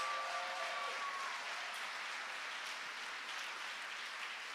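A church congregation applauds together in a steady, dense wash of clapping that holds at an even level, with no talk over it.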